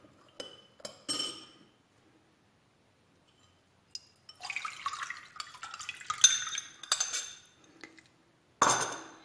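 Salted water, a cup of water stirred with a teaspoon of salt, poured into a bowl to start chebureki dough; a few glassy clinks come first, then several seconds of splashing pour and a last clink, with no talking.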